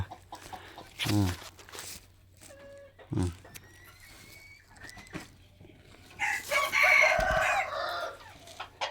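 A rooster crows a couple of times nearby between quieter clucks and rustling, with a louder burst of fowl calls toward the end.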